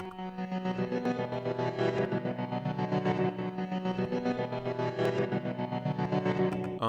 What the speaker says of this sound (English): I reversed it and I put gross beat and I EQ'd it and added some reverb.